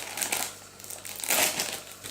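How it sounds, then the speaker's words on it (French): A plastic mystery figure packet is torn open with teeth, close crinkling and crumpling in uneven bursts with a louder rustle near the end. "Je l'ouvre avec les dents parce que je n'ai pas pris mes ciseaux forcément."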